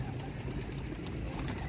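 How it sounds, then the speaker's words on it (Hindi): Pigeons in a loft or trapping pen, a prized breed, coo softly in low, continuous murmurs under a steady noisy background, with no talking. "बेहतरीन किस्म का कबूतर है जी"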